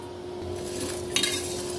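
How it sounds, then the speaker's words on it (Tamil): Spoon stirring chana dal as it dry-roasts in a pan, with soft, quiet scraping over a low steady hum and one sharper metallic clink partway through. "ஸோ ஒரு கப்பு கடலைப்பருப்பு எடுத்து வறுத்து எடுத்துக்கலாம்"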